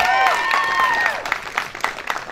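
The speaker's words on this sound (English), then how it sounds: "Please clap for it one more time." Audience applause at a school talent show, a moderate wash of clapping heard alongside lingering sung or spoken tones at first, then thinning into scattered individual claps toward the end.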